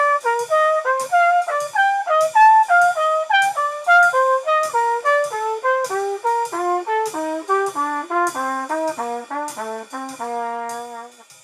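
A melodic instrument runs a major scale pattern in diatonic thirds, inverted, as a steady stream of evenly spaced notes that climb and descend, clear and alone without talk.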